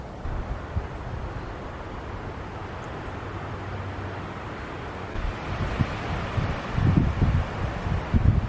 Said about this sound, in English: Sure is a lot of wind here.